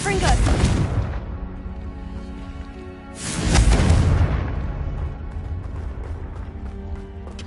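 Confringo fire spell in Hogwarts Legacy bursting into two loud, close booming explosions about three seconds apart, each decaying into a long rumbling tail.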